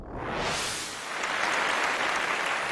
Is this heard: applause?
yes